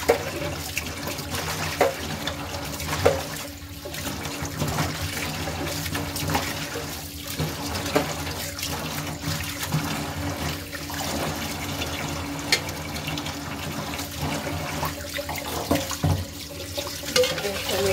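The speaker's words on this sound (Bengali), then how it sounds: "ওইটা দিয়ে মাছ ধুত। একটা ধোয়া দিয়ে নিলাম।" Fish being washed by hand in a basin of water, with repeated sloshing and splashing that swells and fades in irregular bursts, fairly close, with faint background noise and no talk.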